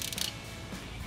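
A crimping tool closes an eyelet terminal onto a ground wire during a Holley Sniper EFI install on an Early Bronco, giving one brief, close mechanical crunch followed by quiet.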